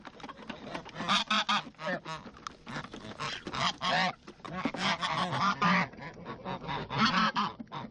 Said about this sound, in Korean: 토리를 제외한 나머지 거위들은 소리만 지를 뿐 겁이 나서 가까이 오지도 못한다